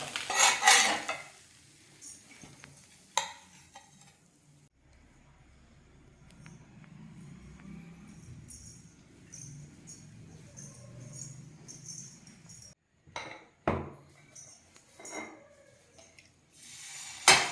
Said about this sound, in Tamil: இந்த ஸ்டேஜில் நம்ம இந்த தோசையை அப்படியே சுருட்டி எடுத்துடலாம்